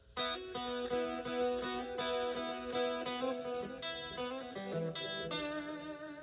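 An electric guitar plays a clean lick from a song, picking repeated notes in a quick, even rhythm. The guitar is loud and close, and no voice is heard.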